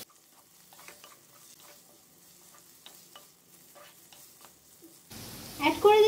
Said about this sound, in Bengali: অ্যাড করে দিচ্ছি টুকরো করে কাটা একটি বড় সাইজের টমেটোর অর্ধেক অংশ। একটু ফ্রাই করে নিচ্ছি।